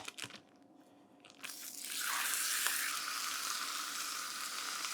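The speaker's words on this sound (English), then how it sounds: "So just over a medium-high heat, plonk in your mince." About 500 grams of beef mince hits a hot pan over medium-high heat, and after a quieter start a loud, steady, close sizzle erupts and holds through the rest of the clip, with no talking.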